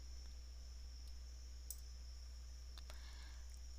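A computer mouse clicks sharply against a quiet, humming background, with a couple of brief, crisp clicks about a second apart.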